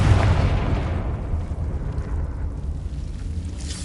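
A Confringo blasting spell explodes in Hogwarts Legacy, a loud burst up front that decays into a rumbling, fading boom.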